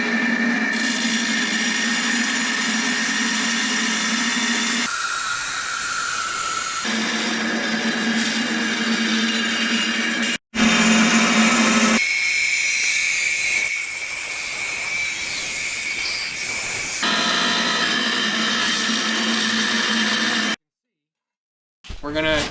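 A wet tile saw cuts ceramic tile with a loud, steady, hissing whine that stays near and continuous, its tone shifting between sections as the blade bites into the tile, with a sudden cutoff near the end.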